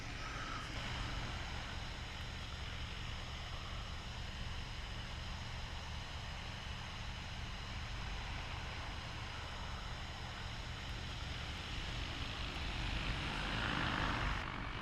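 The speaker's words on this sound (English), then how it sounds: "the drone actually went directly to the point where it stopped spreading and continues the route" An AUAV A70 agricultural drone flies its spreading route over a field, its propellers giving a steady, dense whirring roar that holds constant throughout and swells slightly near the end, with no voices.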